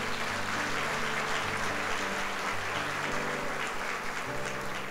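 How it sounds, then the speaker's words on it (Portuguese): A church congregation at a Sunday service applauding, a dense, sustained clapping that fills the room at even loudness from start to finish. "Quem recebe, dá um aplauso aí a Jesus."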